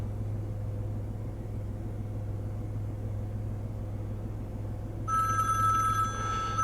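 A low steady engine hum from a warmed-up 2016 Smart Forfour idling runs throughout, then near the end an electronic telephone ring chirps in over it.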